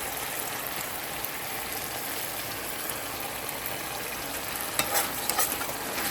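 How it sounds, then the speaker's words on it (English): Food sizzles steadily in a pan while a Jamaican breakfast is cooked, black pepper having just gone in; a continuous close frying hiss with a few louder crackles near the end, no talk. "Let it fry."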